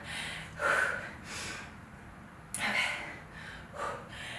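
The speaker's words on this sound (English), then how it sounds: "I'm pretty out of breath right now" Heavy, ragged breaths follow a bodyweight exercise in a home cardio and strength workout: several loud gasping inhales and exhales at an uneven pace, close up, with no talking.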